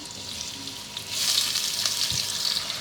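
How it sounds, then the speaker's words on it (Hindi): Chopped onions hit half a cup of hot oil in a pan for potato and mutton curry, a steady hissing sizzle that swells louder after the first second and keeps crackling close up with no talking. "ऑयल गर्म हो जाएगा तो हम इसमें अपने प्याज शामिल करेंगे।"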